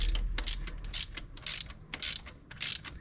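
A ratchet wrench runs bolts down on an engine, the injector hold-downs torqued to 35, giving bursts of rapid clicking in close, loud repeated pulls with brief pauses between them.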